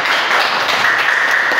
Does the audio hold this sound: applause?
yes